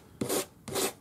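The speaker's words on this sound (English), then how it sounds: "if I file it this way, it'll just make flat spots on it" A metal file rasps across a cone ring, shaping it into a round curve, in two close, even strokes, each a bright scraping hiss with a pause between.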